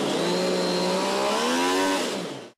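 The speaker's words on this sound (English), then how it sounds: "This is the dyno room where we mainly developed the engine." MV Agusta three-cylinder motorcycle engine howling on a dyno in a factory development room, a steady loud rising whine that climbs in pitch then cuts off near the end.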